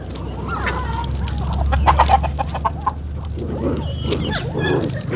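Chickens cluck and squawk excitedly during a fight, with a rooster-like call near the middle. The sounds are close and jumbled, with faint voices in the background.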